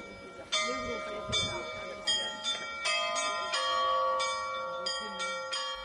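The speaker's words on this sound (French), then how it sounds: "Le Kremlin de Rostov-la-Grande nous accueille au son d'un concert de carillon." Carillon bells at the Kremlin of Rostov the Great ring out in a rapid sequence of bright, overlapping strikes, moderately distant, forming a continuous melodic peal.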